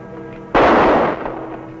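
A single sharp gunshot is fired at a sign on a wall, a loud close crack with a short decaying tail in an old radio-style Western scene, standing out over a low background hum.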